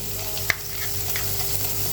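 Butter sizzling and frying steadily in a pan as the base for a white sauce, a continuous close hiss with one brief tap, no voices.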